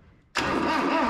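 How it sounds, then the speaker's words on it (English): An abandoned 1983 Mazda B2000 minitruck engine cranks over, breaking sharply out of near silence into a loud, steady mechanical churn close by. "She is having a little harder time cranking over now, because she's got all that compression inside."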